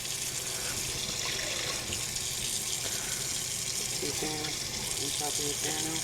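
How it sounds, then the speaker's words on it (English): Water runs from a tap into a pot of rinsed rice, measured for cooking: a steady, close rushing splash throughout, with a faint voice low underneath. "you want to measure the water up to your index finger"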